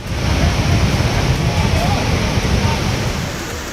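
Flash-flood water from a cloudburst in the mountains of Pahalgam, Jammu and Kashmir, rushes as a loud, steady, broadband roar that stays constant and close throughout, with no voices.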